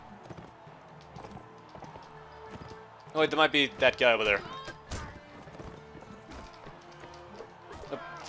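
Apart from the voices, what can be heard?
horse galloping in video game Mount & Blade Warband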